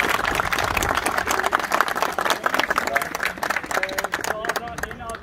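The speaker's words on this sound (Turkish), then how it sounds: "sizler için bir alkış alalım öncelikle" Audience applause at a Turkish gathering honouring players and referees, broad steady clapping filling the whole stretch with crowd noise and some voices mixed in.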